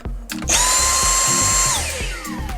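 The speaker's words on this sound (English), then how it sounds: "I'm going to use my Dyson hand vac here just to determine how loud this is" A Dyson cordless hand vacuum whines up to a loud, steady high-pitched drone for about a second, then winds down, with clicking and bumping underneath.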